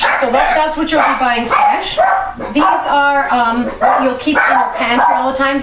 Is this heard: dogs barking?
yes